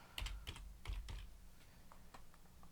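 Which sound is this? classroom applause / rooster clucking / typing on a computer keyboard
typing on a computer keyboard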